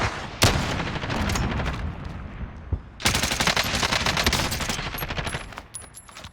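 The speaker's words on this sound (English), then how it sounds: "they're shooting down into the field" Automatic gunfire in Call of Duty: Warzone, a sustained burst followed by a brief lull, then another long rattling volley of rapid shots, loud and close.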